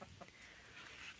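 A hen clucks softly a few times, faint and close, against quiet background noise.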